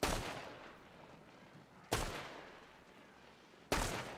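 Three heavy gunshots ring out in a video game, each a sharp burst that trails off into a long fading echo, spaced about two seconds apart and heard quietly with no voices.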